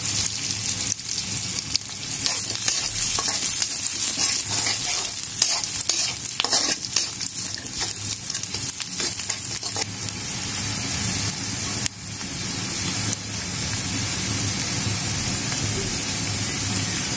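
Chopped garlic frying in a pan for a taro-leaf and prawn dish: a loud, steady sizzle runs throughout, broken by scattered clicks and scrapes of stirring.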